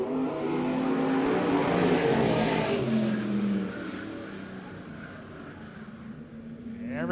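USRA stock cars roar through a heat race at Monett Motor Speedway, engines loud and continuous as the pack sweeps past, then the noise eases slightly as they move on.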